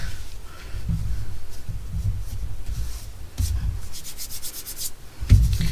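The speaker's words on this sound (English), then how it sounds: "Just rub off the extra glue here" Extra glue rubbed off a paper card with a fingertip, producing soft repeated close scuffing and brushing strokes, moderately loud, ending with a brief thump.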